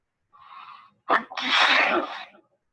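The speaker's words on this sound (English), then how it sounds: "I huffed, and I snuffed, and I sneezed a great sneeze." A single loud, explosive sneeze preceded by a short sharp inhaling buildup, followed by a breathy trailing exhale.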